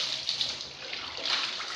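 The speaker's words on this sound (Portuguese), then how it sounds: "Eu vou molhar primeiro o pelo dele, a minha água aqui normal" Ordinary tap water is poured and splashed over a Chow Chow's fur during a home bath, a steady close rush of water with no talking.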